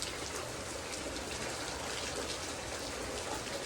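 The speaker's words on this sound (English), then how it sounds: "I really just love the rain" Steady rain falling outdoors, a dense even hiss of drops with no pauses, soft and continuous throughout with no voices.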